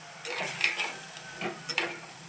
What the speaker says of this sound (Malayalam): നല്ലോണം ഇളക്കി കൊടുക്കുക